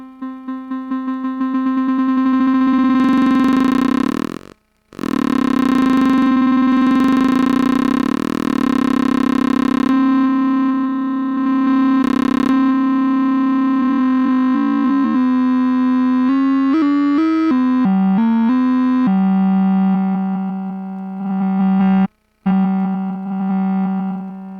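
Nunomo QUN MK2 granular synthesizer sustaining a single loud, steady note while its grain position is moved, so the tone shifts in brightness. Short dropouts break it, then a stepped flurry of pitch changes leads to a settled lower tone.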